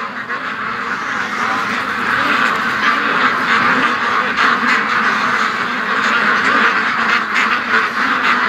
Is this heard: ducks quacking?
yes